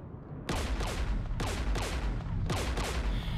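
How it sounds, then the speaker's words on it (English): Dense, continuous gunfire in the Mass Effect 3 video game, loud bursts renewing roughly every second in a heavy, unbroken barrage with no voices. "We're taking fire."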